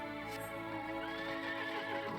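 A horse neighs in the video game Final Fantasy XIV with a faint, drawn-out whinny that rises and wavers over a quiet ambient backdrop.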